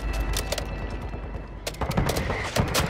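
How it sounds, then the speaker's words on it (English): Call of Duty: Modern Warfare II mortar strike plays amid a constant rattle of gunfire, with sharper blasts and thuds punching through the second half, loud and close. "That's my mortar."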